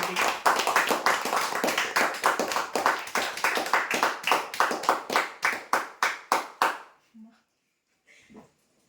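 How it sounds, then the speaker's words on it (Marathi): A small audience at a weekly prize draw claps for the winners, a run of sharp, quick hand claps in a steady rhythm that thins into a few last claps and fades to quiet. "जोरदार टाळ्या"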